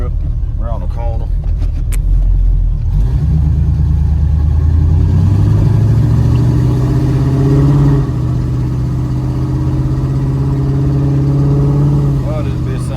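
A cammed V8 Classic Grand Prix car drives at close range, its low, lumpy engine rumble rising as it pulls away and then settling, with someone talking over it.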